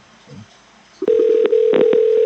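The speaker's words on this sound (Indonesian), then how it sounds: "di sini terlihat bahwa semua nomor telepon akan berdering secara bersamaan" Telephones in a FreePBX VoIP ring group sound together after a call to an extension: a steady, loud electronic ring tone holding for over a second, broken by brief bursts, following a faint short click.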